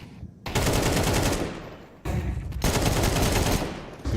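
Sustained automatic rifle fire from an AK in a Counter-Strike match during an ESL Challenger League overtime, loud dense bursts filling most of the clip with a brief dip midway before firing resumes.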